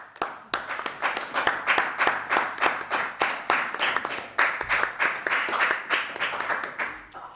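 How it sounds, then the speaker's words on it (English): Scattered clapping from webinar participants at a heritage week online event, a brisk run of separate hand claps through open microphones, fairly close and steady, with no speech over it. "give yourselves and everyone else who presented today, who I'm very proud of, to call my colleagues, a round of applause"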